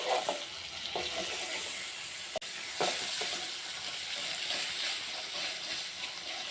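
Spinach curry is tempered in a pan, giving a steady sizzle and hiss up close with a few stirring clicks and one sharp tap, with no talking.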